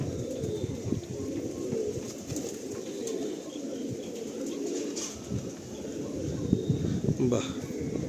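Pigeons coo at a Behala pigeon loft holding many breeding pairs, a low continuous murmur of birds close by with occasional wing sounds, while people talk over it.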